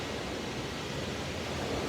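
Ocean waves wash steadily onto the shore as a continuous broad roar, with no distinct individual breakers over a short span.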